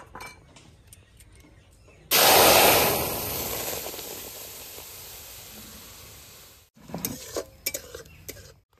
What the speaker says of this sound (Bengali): গরম কড়ার মধ্যে টমেটোর জুসটা দিয়ে দেব।